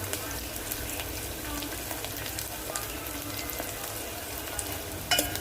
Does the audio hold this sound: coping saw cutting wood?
no